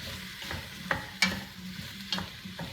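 Onions, carrots and celery cook with sage and thyme in a soup pot, a faint sizzle under several light stirring clinks and scrapes, quiet and without talk.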